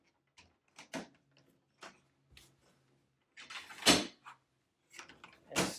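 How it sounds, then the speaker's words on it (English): A small wire cage door on a three-layer chick brooder is opened, giving a series of quiet metallic clicks and rattles, then a sharper clack and a few scraping knocks, close by in an otherwise quiet room. "Simply open your cage door."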